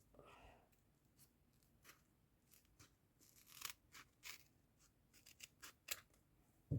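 Scissors snip through a paper packet in a series of short, crisp cuts at close range, quiet overall, with faint rustling of paper between the snips.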